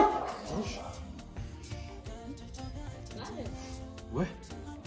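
A dog barks and yips in short, fairly quiet bursts indoors while people talk over it.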